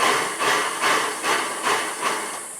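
A blender pulses a tomato-free ketchup of vegetables, nuts and extra virgin olive oil, giving about five rhythmic whirring bursts roughly half a second apart, loud and close with no talking.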